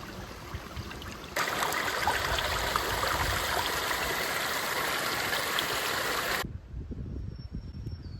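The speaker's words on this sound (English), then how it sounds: "Rained a lot last night, so the trail is basically a little creek" Rainwater runs down a Catskills mountain trail like a small creek, rushing steadily and close for several seconds before cutting to quieter outdoor ambience.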